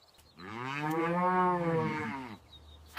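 A large black-and-white cow on a farm gives one long, loud moo, rising and then falling, close by and heard alone.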